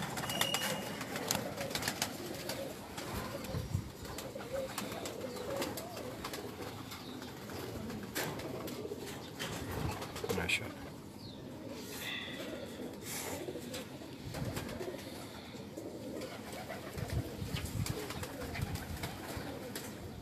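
Sheikhu-wala pigeons on a rooftop keep up continuous, overlapping low cooing, joined by scattered clicks, rustles and fluttering, moderately loud and unbroken throughout.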